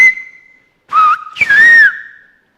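A villager in Antia, Greece, whistles a word in Sfyria, the Greek whistled language: a few clear, loud, pitched whistles, a short opening note and then two longer gliding tones, with no talking.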